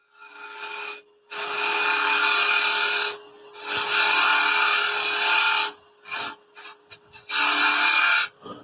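A wooden scoop spins on a lathe at about 2,000 RPM while its inside is hollowed, producing loud scraping cutting bursts of a few seconds each, separated by brief quiet gaps with the lathe hum underneath.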